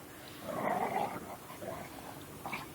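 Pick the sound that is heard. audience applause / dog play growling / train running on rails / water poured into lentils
dog play growling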